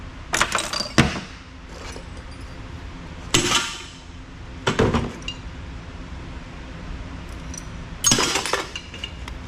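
Aluminum scrap pieces from a motorcycle repair shop clank and clatter as they are sorted and tossed by hand, in several loud metallic bursts separated by quieter handling.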